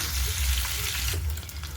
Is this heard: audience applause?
no